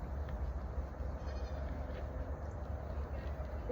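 Goats on a small farm bleat at feeding time, their calls blending into a dense, steady outdoor din with a low rumble running underneath.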